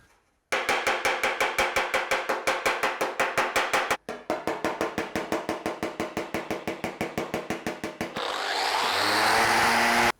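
Rapid rhythmic power-tool strokes working the steel body panel of an RA28 fastback Toyota Celica during rust repair, loud and close, with a brief pause near four seconds and a smoother whirring, rising tone in the final two seconds.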